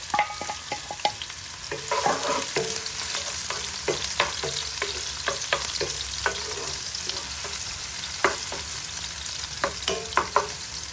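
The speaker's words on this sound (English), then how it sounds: "right now we just add the onions to this hot oil" Onions sizzling and frying in hot oil in a pan, a steady crackling hiss broken by frequent sharp stirring scrapes and clicks, close and fairly loud.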